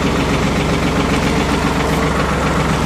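A Ford 4110 tractor engine runs loud and close with a dense, steady knocking diesel rumble, the throttle held up throughout with no voices.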